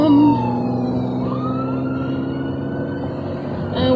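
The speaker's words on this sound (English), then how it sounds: "Hold on, loud vehicles. I hear him, I just don't see him." An emergency vehicle passes on the road with its siren wailing loudly, the pitch sweeping and sliding down as it goes by, over the rumble of traffic.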